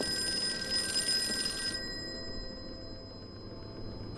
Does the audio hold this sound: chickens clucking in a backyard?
no